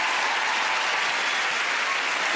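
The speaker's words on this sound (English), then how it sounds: "Please give both our families a massive round of applause." Studio audience applause for the two competing families closes an episode of the All Star Family Fortunes game show: a dense, steady wall of clapping that holds evenly for the whole stretch, with no voices over it.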